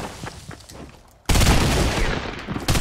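Shotgun blasts in a Fortnite match at Loot Lake, a loud sudden burst of gunfire after a quieter stretch of scattered game sounds, then sustained heavy firing to the end.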